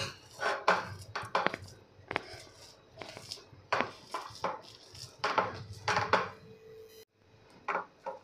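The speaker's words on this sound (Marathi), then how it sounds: "इथे मी मॅशर घेतलेला आहे आणि त्याने आपण प्रेस करत करत हे डाळ मिक्स करणार आहे।" A masher presses and mixes cooked dal in a pot with irregular thumps, squelches and metallic clatter in uneven bursts, close and fairly quiet, with a brief pause near the end.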